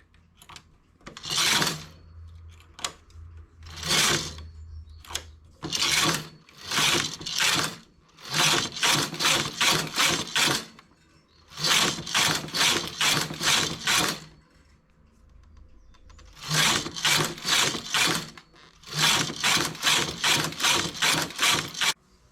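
A domestic knitting machine works stockinette stitch on 16 needles for a child's turban, its carriage sliding back and forth in repeated loud mechanical rasping passes with a ratcheting clatter, each pass separated by short pauses, with no voices.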